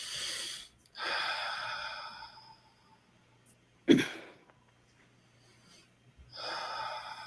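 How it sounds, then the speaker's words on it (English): Several breaths drawn in and released, soft airy inhales and exhales with a brief sharp snort-like gasp in the middle, fairly quiet and with no talk. "Take a breath."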